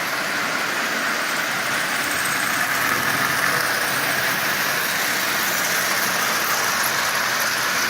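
A Marx 400 toy train with a micro motor and plastic engine pulls a long string of 20 Marx cars, giving a steady, close whirring rumble that runs unbroken throughout, with no talk.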